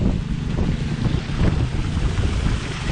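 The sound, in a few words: Harbor Freight 2-inch water pump running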